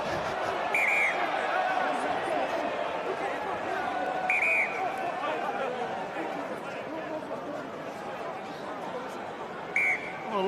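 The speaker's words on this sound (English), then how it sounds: "a loud blast of the whistle there from Pascal Gossaris." Sharp, high referee whistle blasts ring out three times over a busy crowd murmur at a Sale Sharks v Glasgow Warriors rugby match, with a commentator talking throughout.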